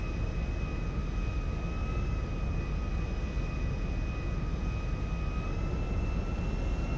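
Jet aircraft in the GTA 5 video game, a Premier 1 light business jet throttling up for takeoff on the runway, a steady loud engine roar with a sustained whine, constant throughout.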